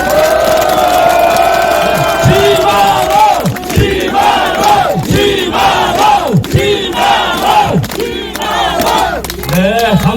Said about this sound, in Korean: 더욱 큰 박수로 환영해 주시기 바랍니다.